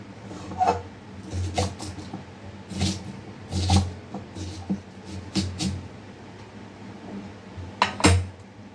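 Utensils clatter against a pan while onions go in for a fish dish, with scattered metallic clinks and scrapes of varying loudness and no talk.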